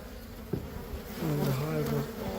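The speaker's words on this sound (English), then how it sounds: "let's chase the bees out so we can work in there" Honey bees swarming from a hive built inside the walls of a house, a close, loud buzzing drone that swells in pitch and volume midway, with a knock near the start.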